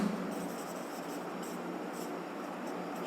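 Steady scratchy strokes of writing on a board during a maths class, a continuous soft rasping close by with faint room hiss and no talk over it.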